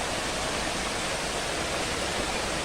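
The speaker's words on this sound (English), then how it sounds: "Bree waterfall in Clarendon." Bree waterfall in Clarendon, Jamaica pours as a loud, dense, continuous rush of falling water, close and unbroken, with no voices.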